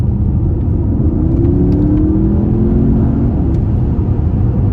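A 2020 Porsche Panamera Turbo accelerating, heard from inside as a loud, steady low engine rumble with a brief rising whine, no talking over it.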